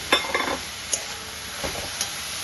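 Fried potatoes added to a pan of spiced coconut and banana flower and stirred in, a few close clattering stirs and scrapes over a light sizzle.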